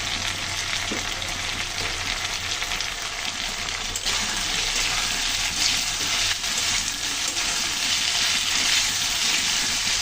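Spice paste (masala) sizzling and frying steadily in a pan for aloo dum, a continuous broadband hiss with occasional stirring scrapes, close and fairly loud with no talking.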